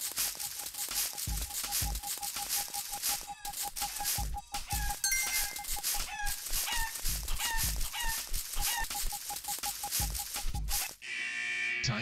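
Video-game chicken clucks and crowing from Super Egg Hunt repeat in quick bursts over a tinkling, chiming game tune with a steady ding, loud and up front.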